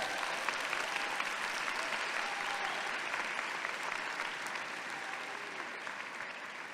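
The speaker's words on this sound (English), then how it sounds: "give yourselves a huge round of applause" Graduating law-school class applauding at an outdoor spring commencement ceremony, a dense, sustained wash of clapping from a large crowd heard at a distance, fairly even throughout and slowly tapering.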